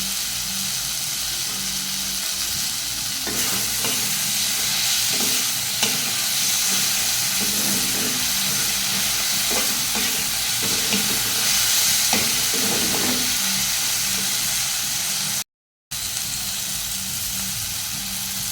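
Onion stalks fresh from the garden sizzle steadily in a hot pan for Bengali kudri curry, with repeated scraping stirs of a spatula through the middle stretch and a brief dropout near the end; no talking.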